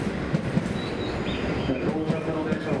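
A JR Joetsu Shinkansen E7 series train at Tokyo Station gives a steady low rumble under platform ambience, with faint rhythmic rail clatter and a thin high tone drifting through.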